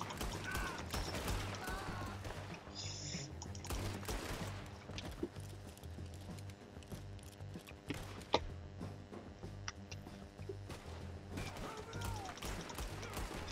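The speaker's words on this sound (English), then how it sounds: "now switch to revolvers" Revolver fire in the Red Dead Redemption 2 video game rings out as a series of sharp, irregular shots and impacts layered over a busy background of game action and music.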